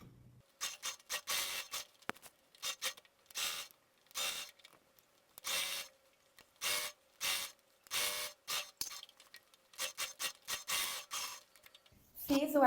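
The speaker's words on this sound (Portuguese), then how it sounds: "eu vou fazer meio pezinho de máquina em toda essa volta para prender bem essa costura e fazer um acabamento de pesponto" A sewing machine topstitches around a shirt collar, running in short, repeated bursts of rapid stitching with brief pauses between them and a faint steady motor hum.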